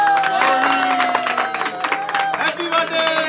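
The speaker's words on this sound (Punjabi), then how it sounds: "ਤਾੜੀ ਮਾਰੋ ਬਾਈ" Crowd clapping at a birthday cake-cutting celebration, scattered applause mixed with talk and background music, fairly close and lively.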